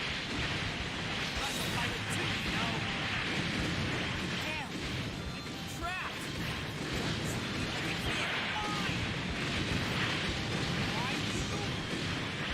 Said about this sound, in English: Loving the explosions.